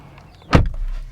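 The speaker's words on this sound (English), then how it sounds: "reaching over here to shut the door" The door of a 2022 Hyundai Santa Fe XRT shuts with a single solid thud heard from inside the cabin, followed by a low lingering rumble in the quiet interior.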